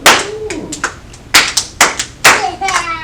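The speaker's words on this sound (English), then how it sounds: "Mrs. clapped her loud hands together" Hands clap together in sharp, loud, separate smacks, about seven in a quick uneven rhythm, close by with a voice briefly in between.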